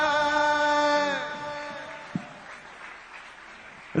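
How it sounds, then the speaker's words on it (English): Applause from the audience at a concert during the India Economic Conclave 2023 swells as the last sustained flute and vocal notes fade. It settles into a steady, moderately loud clatter of many hands. "A big round of applause"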